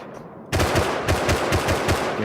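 Semi-automatic rifle gunfire from the video game Rust: sharp shots in a quick uneven series, loud and close, bursting out after a quiet opening.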